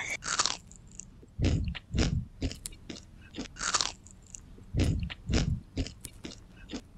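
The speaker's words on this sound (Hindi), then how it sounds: "अब मैं इसे ब्रेक करके दिखाती हूँ ताकि आपको इसकी क्रंचीनेस का अंदाजा लग सके" Crunchy gluten-free seed cookies snapped apart by hand, a series of sharp dry cracks and crumbly crunches coming in quick bursts with brief pauses, close and clear, with no talk.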